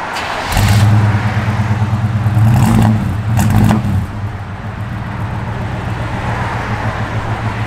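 A cold 1972 Chevrolet C10 Cheyenne pickup engine runs loud and close, swelling through a couple of throttle revs before settling back to a steady rough idle.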